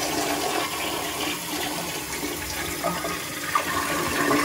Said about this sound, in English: now we're gonna give it a flush to see what adjustment we need to do